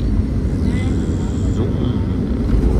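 An airliner lands at Curaçao airport, heard from inside the cabin as a steady, loud low rumble with a faint higher whine, and a voice is present underneath.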